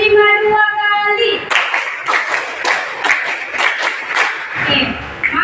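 A class of pupils claps out a rhythmic pattern of five claps repeated twice, crisp unison hand claps ringing out loud and near after a short spoken cue from the teacher.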